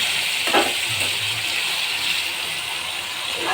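Onions lightly frying in a pan as the base for a prawn bhuna give off a steady, soft sizzle that hisses continuously at an even level throughout, with no talking.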